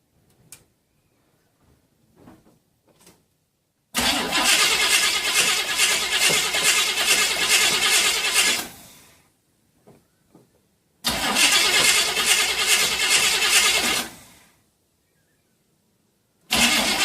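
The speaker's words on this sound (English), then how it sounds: "demonstrate that the starter motor does disengage, but it's when the motor starts" A Chevy starter motor, fitted with a remote solenoid and suffering a fault that keeps it cranking, grinds loudly in two long bursts of about four seconds each, with quiet gaps and small clicks between them and a third burst starting at the end.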